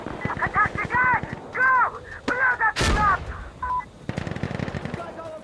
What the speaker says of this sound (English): God damn, that grenade was so close.